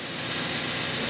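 A Toyota RAV4 engine runs steadily in first gear with a drive wheel raised off the ground, giving a continuous close mid-pitched hum with some vibration and no talk over it.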